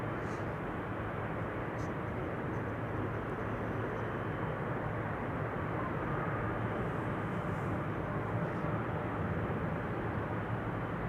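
A Chinese cargo Boeing 777 taxis across the runway at Amsterdam Schiphol, a steady broadband jet-engine roar holding constant and fairly distant with no distinct peaks throughout.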